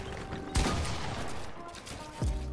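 Video game gunfire: a heavy burst of shots erupts, rapid fire rattles on, and a second loud volley hits near the end, with faint talk in the background.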